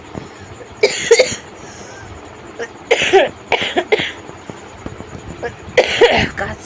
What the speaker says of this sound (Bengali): প্রচণ্ড কাশি কাশি কাশতে কাশতে আমার মানে জীবন বেরিয়ে যাচ্ছে এত কাশি